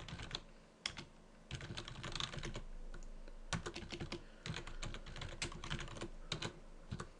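Someone types on a computer keyboard in irregular bursts of crisp, close key clicks with short pauses, faint overall and with no talking.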